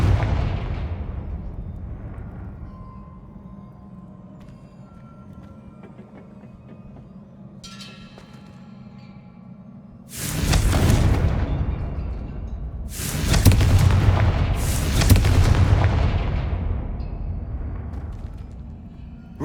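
Several heavy blasts from the Confringo fire curse in Hogwarts Legacy boom out one after another in the second half, after a quieter stretch of ambient hum.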